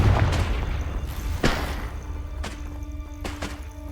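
A Confringo blast spell in Hogwarts Legacy goes off as a dull boom, followed by a few sharper thuds and crackles over a low rumbling game background.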